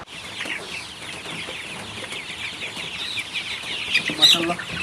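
Chickens on a farm cluck and call steadily in the rain, a continuous mid-distance flock chatter with a louder burst near the end.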